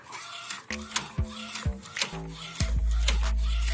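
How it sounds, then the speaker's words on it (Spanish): An Epson R1800 printer prints on acetate film, giving mechanical whirring with sharp clicks and clunks as the print head and feed move, ending in a sustained motor hum. "Entonces ahorita ya está haciendo la impresión."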